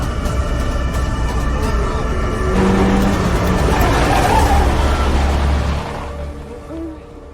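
A car approaches, swells into a loud close rush around the middle and then fades as it passes by, while people's voices carry over the road noise.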